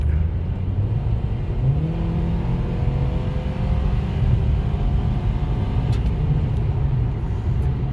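A 7th-generation Honda Accord 2.4 with an intake modification accelerating hard, a loud continuous engine drone with rising tones as revs build, steady and close under road rumble, no talk.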